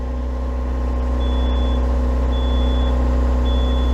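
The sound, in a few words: smoke detector going off inside a boat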